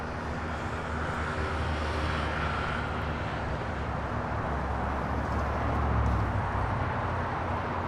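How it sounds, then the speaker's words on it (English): A Delta Airbus A330neo arrives on runway 24 left at LAX, its jet engines making a sustained broad roar that swells slightly toward the end, heard steadily from a distance without talk. "The Delta A330 Neo up next for arrival on the north side at 24 left"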